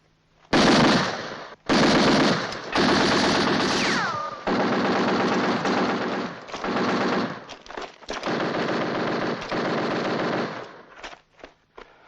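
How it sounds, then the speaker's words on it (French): A machine gun fires several long bursts in the desert battle at El Alamein, loud close rattling volleys separated by brief pauses, ending in a few shorter ragged bursts. "Tirez quelques rafales pour voir"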